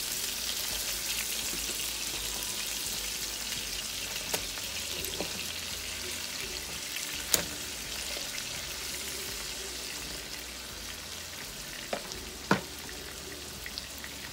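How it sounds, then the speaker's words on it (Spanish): Bacon and a beef patty sizzle steadily in a hot pan for a burger with mushrooms, a continuous hiss with scattered pops and crackles and no talking. "Acá he puesto mi tocino para que dore."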